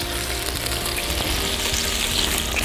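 Squid frying in a hot pan, a loud, dense, continuous sizzle close up with faint crackles and no talking.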